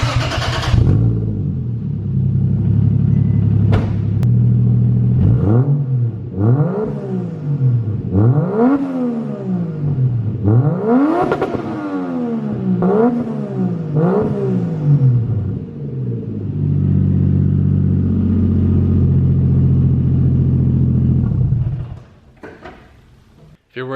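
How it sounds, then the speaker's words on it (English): A Toyota Chaser with a 1JZ engine revs repeatedly through its exhaust in sharp rising and falling bursts, loud and close, settling into a steady idle rumble before cutting off. "I'll do a quick like exhaust clip before we close the video out."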